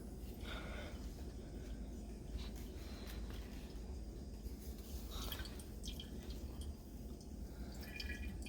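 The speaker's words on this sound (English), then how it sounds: "Look how slow it's dripping" Wet Egyptian ormus drips slowly through a filter, like a coffee pot. The soft, irregular drips are very faint and close, with no talking.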